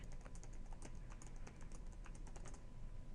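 Number keys tapped on a calculator keypad during a statistics math lecture, a quick series of light plastic clicks in an even rhythm, close and fairly quiet, with no talking.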